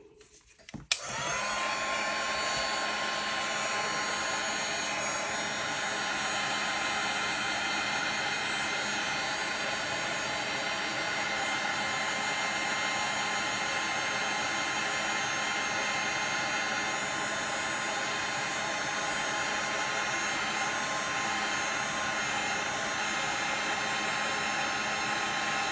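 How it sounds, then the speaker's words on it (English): A heat gun blows steadily to melt embossing powder on a handmade birthday card, a loud, constant rushing whoosh with a faint hum that switches on with a click and runs on alone without a break. "Okay, so I've just got a heat gun."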